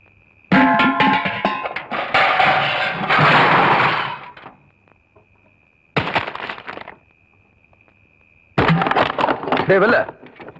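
A clay pot breaks with loud crashing and cracking in a dramatic film scene, followed by two further bursts of shattering debris separated by near-silence.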